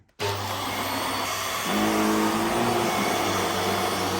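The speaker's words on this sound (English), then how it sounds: "let's test out this new vacuum" A Vax Air Stretch Pet Max upright vacuum cleaner switches on and runs steadily and loudly, its motor hum deepening slightly in pitch partway through with no talking.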